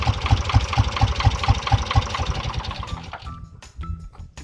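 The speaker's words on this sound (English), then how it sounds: "I'll turn the tractor off." A tractor engine idles with a steady, low chugging pulse, close and loud, then cuts off near the end, leaving a few faint clanks.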